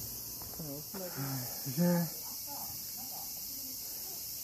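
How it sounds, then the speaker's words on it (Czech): Steady high-pitched cicada chirping fills the background throughout, loud and continuous, heard outdoors in Japan while a voice speaks briefly over it. "Narazila do mě cikáda."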